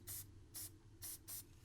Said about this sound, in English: I'm just going to try to seal it in with a little more spray